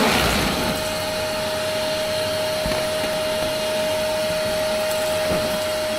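A vacuum cleaner sucks up thistle dust inside a grain dryer, a loud, steady close roar with a faint high whine running throughout and no talking.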